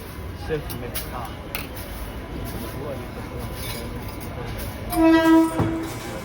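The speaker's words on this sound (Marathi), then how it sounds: "हे मरीन लाईन स्टेशन आहे, इथून आपण आलो आता." Trains rumble through Marine Lines railway station in Mumbai amid a steady platform hum, with a loud two-note horn blaring near the end and a person talking over the din.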